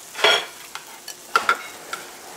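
Pork belly (samgyeopsal) sizzling on a restaurant grill, heard as a few short, close sizzling bursts with quieter crackle in between, with no talk.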